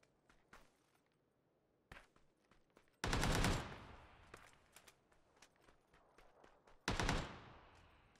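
Decoy grenade in PUBG imitating gunfire, scattered single shots followed by two loud, sharp bursts of rapid automatic fire, with sparse cracks in between, fairly near.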